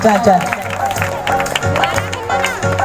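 A congregation claps at a live healing meeting, rhythmic hand claps under loud speech and singing voices that carry over the clapping throughout.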